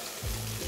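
Hot tadka tempering is poured over beef haleem, giving a brief, close hiss and crackle of sizzling oil with no talk.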